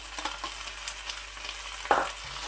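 Onion frying with garlic and ginger paste in a pan, a faint, soft sizzle with a brief louder stir or scrape near the end; no voices.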